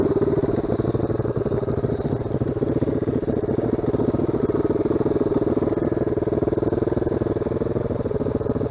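An off-road motorbike rides a wooded ORV trail past mud puddles, its engine a constant close droning rumble with a steady clattering texture and no letup.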